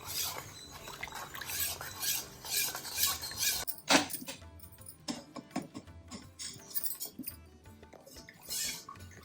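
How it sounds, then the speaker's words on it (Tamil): A spoon stirring health-mix powder into water in a glass, faint repeated clinks and scraping against the glass in an uneven rhythm, with one sharper knock partway through. "ஒரு கிளாஸ் தண்ணி ஊற்றிட்டு கட்டி இல்லாமல் கரைச்சிக்கலாம்."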